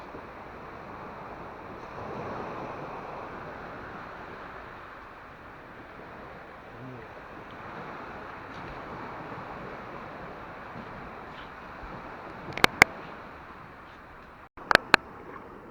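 Calm sea waves wash gently onto a beach in the early morning, a soft continuous hiss with faint swells and some wind on the microphone, interrupted near the end by a few sharp handling clicks.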